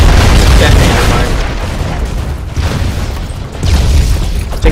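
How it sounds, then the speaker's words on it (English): A detonator mine blows up in a video game, a loud booming explosion with a heavy low rumble that fades and then swells again, masking any other sound. "Yeah, it's a detonator mine."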